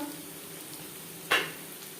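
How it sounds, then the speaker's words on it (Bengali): Chopped onions frying in refined oil make a steady low hiss, broken by one sharp, louder burst of sizzle midway. "দিয়ে দেবো দুটো পেঁয়াজ কুচি দু তিন মিনিট ভেজে নেওয়ার পর"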